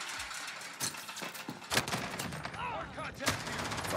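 Rapid bursts of automatic gunfire in the Modern Warfare shooter, several sharp volleys crackling over about four seconds with a loud spike near the middle, alongside game noise and faint voice chat.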